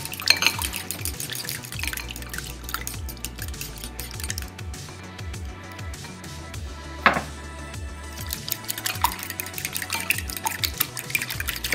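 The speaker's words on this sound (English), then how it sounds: "I'm mixing this up." A fork or whisk beats ingredients with a little water in a bowl for a pork chop recipe, a fast, steady, wet clicking and sloshing that keeps going close by with no talking.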